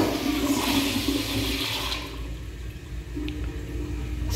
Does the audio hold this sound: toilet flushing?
yes